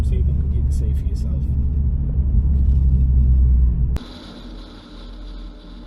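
Ford Focus RS MK2 exhaust rumbling loud and close, a deep steady idle-like drone that cuts off abruptly partway, leaving quieter road and engine noise behind.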